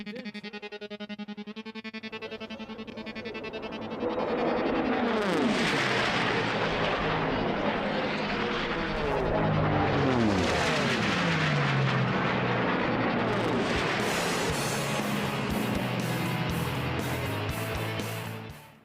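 An unlimited class racing airplane at an air race, long known around Chino, roars overhead with a rising, sweeping engine drone that swells loud and fades, heard alone.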